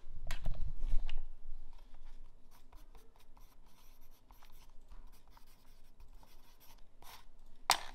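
Pen or pencil scratching across paper by hand while jotting a list, a louder burst of strokes at the start, then quieter intermittent scribbles and light taps, close and alone without talk.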